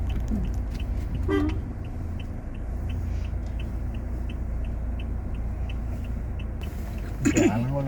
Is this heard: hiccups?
no